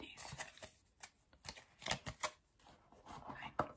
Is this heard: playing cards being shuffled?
yes